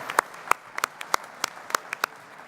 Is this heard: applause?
yes